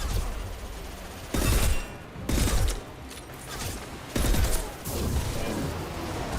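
A sniper rifle in the game Mass Effect 2 fires several loud, separate heavy shots with short pauses between them, over constant battle noise.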